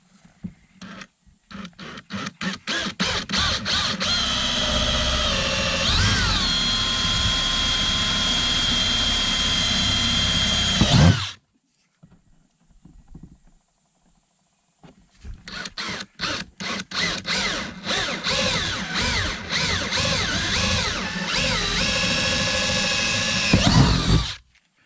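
A jigsaw cuts a hole for a navigation light, buzzing loudly and steadily for about eleven seconds. Then come a quiet pause with a few faint handling sounds and a second long cutting run with stuttering starts.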